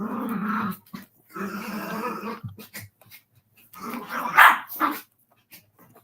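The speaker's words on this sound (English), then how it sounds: "This pup is so full of energy." A puppy barks and growls in loud, close bursts separated by short pauses, with one especially sharp, strong bark near the end.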